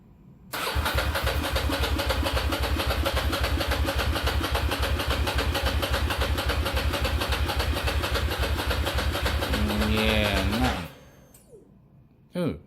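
A Ducati Monster cafe racer motorcycle engine fires up and idles loudly with a steady, rapid throb, then a few revs and a sudden stop near the end, followed by quiet.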